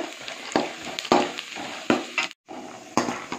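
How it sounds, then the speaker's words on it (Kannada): Peanuts fry in hot oil for kadlepuri with a soft sizzle, broken by sharp scraping and clicking from stirring at an uneven rhythm and one brief gap of silence. "ಚೆನ್ನಾಗಿ ಫ್ರೈ ಆಗಬೇಕಿದು ಕಡಲೆಕಾಯಿ ಬೀಜ"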